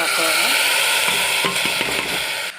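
Sorghum water is poured into a hot pan of turmeric and oil, giving a loud, dense, close sizzle with scraping stirs throughout, no voices.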